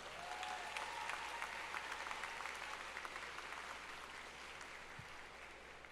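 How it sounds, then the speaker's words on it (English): Graduation crowd at Kingsborough Community College's 60th commencement applauding, a sustained, moderately distant wave of clapping that slowly tapers, heard on its own. "So please give them a round of applause."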